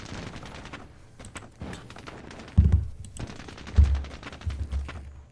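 Gunfire as a squad returns fire in the Vietnam War game Squad Battles Vietnam, set at Hue City in 1968: bursts of machine-gun fire and single shots with hard thumping impacts, loud and uneven, with no talk.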